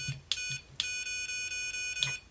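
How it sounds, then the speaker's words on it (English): An Elecrow CrowBot BOLT toy robot buzzer beeps in short, sharp electronic tones, several bursts repeating over a steady high hum, close and fairly quiet. "The right shoulder button is buzzer sounds."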